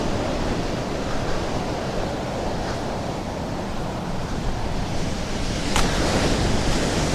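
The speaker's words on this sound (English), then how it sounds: "Very windy, so apologies for any wind noise." Strong wind buffets the microphone beside Happisburgh lighthouse while surf roars steadily close by, a loud, continuous wash of noise with a few gusty swells and no voices.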